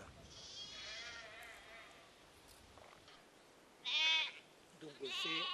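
Sheep and lambs bleat on a farm, several wavering calls spread through the stretch, a louder, closer pair near the end, with faint background noise and distant voices.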